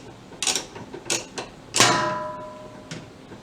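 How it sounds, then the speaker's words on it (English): A socket wrench turns to loosen the agitator bolt on a Whirlpool/Kenmore direct-drive washer, giving a few sharp, close metallic clicks and clanks, then a short ringing rattle. "when you stick your socket in and you start turning it"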